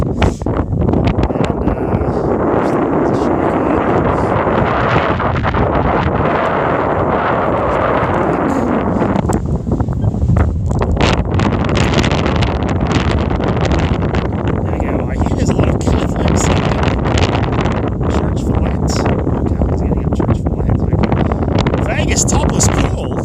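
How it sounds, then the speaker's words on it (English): Strong wind buffets a microphone outdoors in Arizona, a loud continuous low roar with gusting surges throughout, while a person talks over it. "Whoa, windy!"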